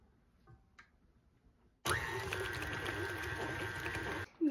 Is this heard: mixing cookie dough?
yes